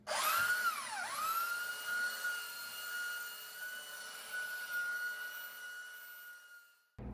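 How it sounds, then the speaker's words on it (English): A power sander on a wooden tabletop whines at high pitch, dipping briefly before settling into a steady, loud whirr that winds down and stops near the end. "We are off to sanding now with the correct tool."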